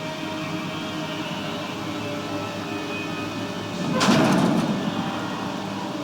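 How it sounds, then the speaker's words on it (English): Elevator doors slide open in the video game Max Payne 3, a brief swelling whoosh rising over a steady ambient hum partway through, then fading back into the background drone. "I saw the elevator doors were open."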